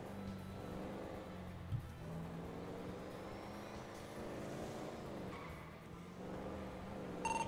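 A car in a video game driving and braking before corners: a faint continuous engine drone that dips and rises, with brief tire squeals and small knocks, no speech.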